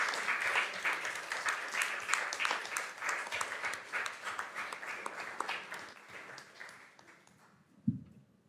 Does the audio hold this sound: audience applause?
yes